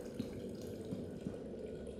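Tap running in the Prey video game, a soft continuous stream of water splashing steadily at low volume with faint drip-like accents.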